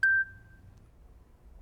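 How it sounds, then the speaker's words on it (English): A single short electronic beep sounds once, clear and fairly loud, then fades into near silence. "Did you hear that beeping sound just now?"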